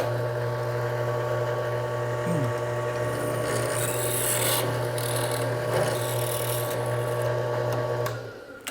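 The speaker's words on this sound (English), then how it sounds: "we'll drill a new test hole" A drill bores a test hole in aluminum, making a steady, close, humming whine with a gritty grinding edge. It runs unbroken for about eight seconds, then winds down and stops.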